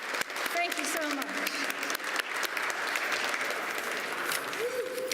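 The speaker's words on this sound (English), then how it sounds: "Let's all give her a nice round of applause as she comes to the stage." Audience applause fills a room as a speaker comes to the stage to open a Black History Month exhibit on comics art, a steady dense clapping that continues for the whole span with a few faint voices mixed in.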